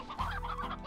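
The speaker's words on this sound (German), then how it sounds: "So, hier ist noch ein Steinhuhn." A rock chicken in the Slime Rancher video game clucks in a quick, close run of fowl-like calls, short and clear with no talk over it.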